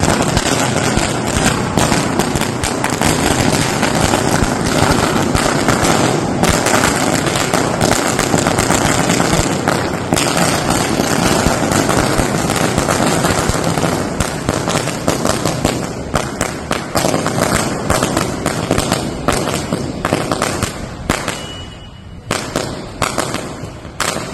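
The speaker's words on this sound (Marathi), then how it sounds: "चौकात फटाके फोडून आनंदोत्सव साजरा केलाय" Firecrackers bursting in rapid, continuous crackling volleys at a celebration in a town square, loud and close throughout, thinning slightly toward the end.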